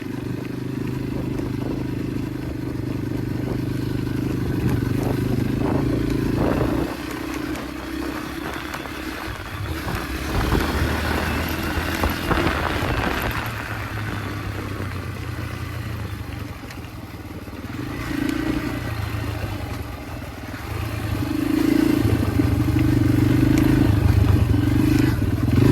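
A Yamaha dirt bike rides along dirt trails, its engine droning steadily and loud throughout, with clattering and scraping from the ride and swells as the throttle opens near the end.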